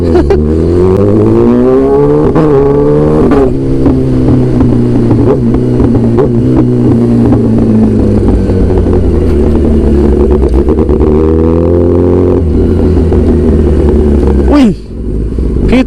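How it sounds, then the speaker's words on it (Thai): A Kawasaki ZX10 motorcycle's loud exhaust rumbles and revs close by, its pitch climbing and dropping as it rides, with someone talking over it. "ผมเป่าท่อดังนะครับ"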